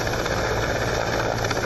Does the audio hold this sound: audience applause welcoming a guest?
no